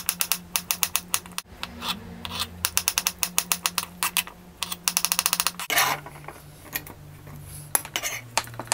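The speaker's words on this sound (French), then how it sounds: "Now I'm gonna cut carrots and potato already cooked in salt and water." A knife chopping cooked carrots and potatoes on a board, quick runs of rapid crisp taps in bursts with brief pauses, close and distinct.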